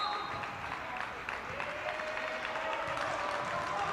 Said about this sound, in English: A few chirps coming from the crowds.